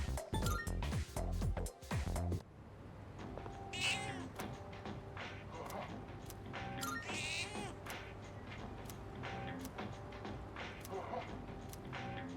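A cat meows several times in Persona 3 Reload, short game mews repeating over a soft musical background after a loud opening burst of game sound.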